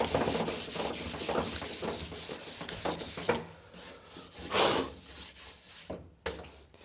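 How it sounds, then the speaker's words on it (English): Sandpaper rubbing over a painted interior surface inside a camper, a steady run of close, rhythmic scuffing strokes, dulling the old paint rather than stripping it, with brief pauses between passes. "we've sanded all that down now, and the trick is just to dull the surface, really"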